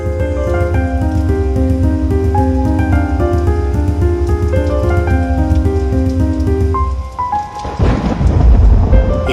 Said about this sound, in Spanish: Con la lluvia de fondo